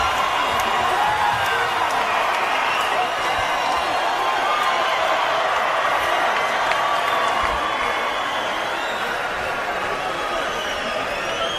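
A boxing arena's hometown crowd roars and cheers steadily after a twelve-round fight, a dense, loud wall of voices, whoops and scattered applause that holds for the whole stretch without letting up.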